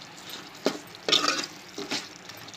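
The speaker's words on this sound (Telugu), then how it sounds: "పుదీనా కొత్తిమీర వేసుకొని కలుపుకొని స్టవ్ ఆఫ్ చేసుకుందాం" Mint and coriander stirred into a pot of mutton curry, with a few short scraping stirs in separate bursts and a soft sizzle underneath, no voices.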